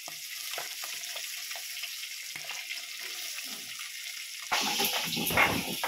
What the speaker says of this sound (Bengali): ওখানটায় মাছ ভাজা হচ্ছে